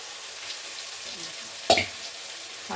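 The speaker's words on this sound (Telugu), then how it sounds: "మనం డీప్ ఫ్రై చేసుకుని చికెన్ వేసుకోవాలి" Chicken pieces deep fry in oil with a constant hiss, broken once by a sharp clink of a utensil against the pan partway through.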